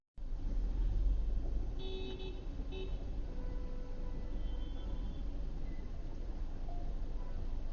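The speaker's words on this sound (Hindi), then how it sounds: "ये बोलेरो पिकअप वाला पीछे से आकर कई बार लगातार हॉर्न बजाने लगता है।" A Bolero pickup in slow-moving Indian traffic sounds its horn in a few short repeated toots from behind, heard over continuous engine and road noise.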